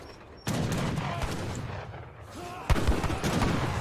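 Gunfire sniping Axe Raiders in the Age of Empires video game, two sharp bursts of shots with crackling trails over a busy battle din, fairly close and without talk.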